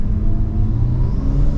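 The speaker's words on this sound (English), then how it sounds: "you can full hear the intake noise as well with the suction" Turbocharged Toyota 1JZ engine with a carbon intake, a steady close rumble and whirring intake suction under light revving, no talk.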